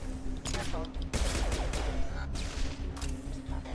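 Rapid gunfire bursts from a sci-fi shooter, Mass Effect 2, crackling in repeated volleys over a steady electronic hum, with a voice talking faintly beneath.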